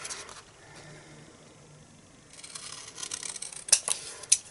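Scissors snip freehand through card stock for a handmade birthday card, a quiet rustle of paper followed by a few sharp, close cuts near the end.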